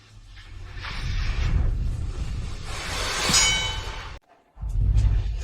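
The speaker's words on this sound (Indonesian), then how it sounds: "membunyikan bel untuk IPO" A bell rung to mark a company's IPO gives bright metallic clangs over a loud rumbling, crowded background, then cuts off abruptly before noise resumes.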